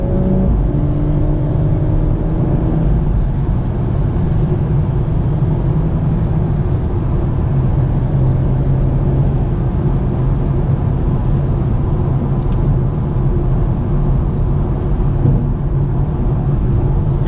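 A BMW M140i drives along a country road at night, its engine droning loudly and steadily under acceleration with a deep, rough rumble and no talking.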